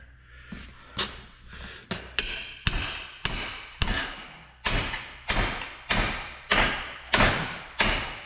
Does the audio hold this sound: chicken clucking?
no